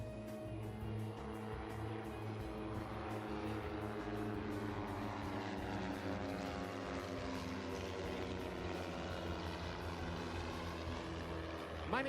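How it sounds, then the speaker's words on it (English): Aerobatic team aircraft at the EAA AirVenture Oshkosh 2025 airshow produce a steady, continuous propeller engine drone that holds at a fairly even level throughout. "From the right, presenting the 2025 Next Gen Eagles aerobatic team."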